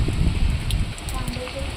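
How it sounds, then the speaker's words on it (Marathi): Heavy monsoon rain pours steadily over a hillside village of terraced houses, a dense, close, unbroken roar with no pauses. "चांगला जोरात पडतोय पाऊस"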